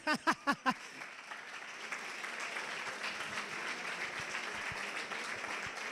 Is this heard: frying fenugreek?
no